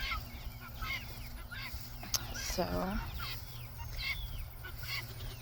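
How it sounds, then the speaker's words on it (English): Ducks and chickens at a rainy garden in June call out near the listener with repeated honks and clucks, including one loud drawn-out honking burst, under a steady wet background hiss and a brief spoken word. "So the ducks and chickens are coming out to greet me because I'm coming past their area."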